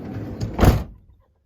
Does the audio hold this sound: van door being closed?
yes